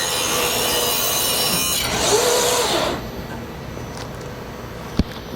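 A splice-cutting machine feeds material and then its cutter fires, giving a steady mechanical whir, a brief swelling cut and a sharp click at the finish.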